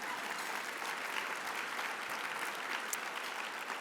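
Sustained applause from a large audience at an awards ceremony honoring past honorees, a steady dense wash of clapping that holds evenly throughout without voices.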